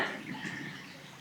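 A small burn trickling beside a muddy hiking trail near Lochwinnoch, Scotland, a faint, soft, continuous babble of shallow running water heard briefly.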